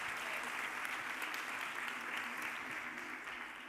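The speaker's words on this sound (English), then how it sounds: "Please give our volunteers a round of applause." An audience at a mental health event claps for volunteers called up on stage, a steady, fairly soft wash of applause from a hall crowd lasting a few seconds.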